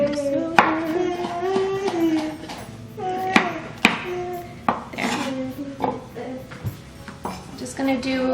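Kitchen knife chopping ingredients for Korean bulgogi on a cutting board, a run of sharp, close, uneven knocks, while someone talks over the cutting.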